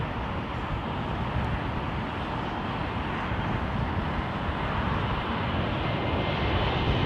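An El Al airliner arriving at London Heathrow produces a continuous, fairly faint broadband jet roar that holds steady without any talking.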